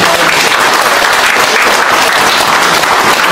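A crowd at a civic movement's founding meeting breaks into loud applause to approve a new leader unanimously. Dense, sustained clapping from many hands fills the space at a steady level for the whole stretch, with no speech.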